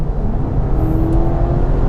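A BMW M8 Coupe Competition pulls hard at full throttle in its softest drive mode, a steady loud engine roar with wind and road rumble filling the interior, a thin rising whine threading through, no voices.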